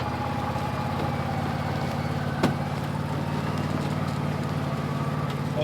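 An off-road recovery vehicle's engine runs steadily in reverse under light throttle while the truck sits stuck, a continuous mid-low drone with a brief knock partway through and no talk.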